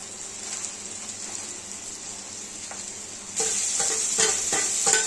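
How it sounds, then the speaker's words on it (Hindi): Chilli and onion sizzle steadily in a pan with a few stirring scrapes, and the frying grows louder and hissier partway through as chopped tomatoes go in, followed by brief clattering stirs. "अब टमाटर डाल दिया है"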